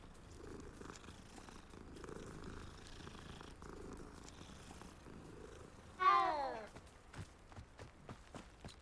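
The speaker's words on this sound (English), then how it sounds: "Oh, cool. Cat." A cat in Hogwarts Legacy purrs softly, then lets out one loud, clear meow, with footsteps pattering afterward and a voice talking quietly under the scene.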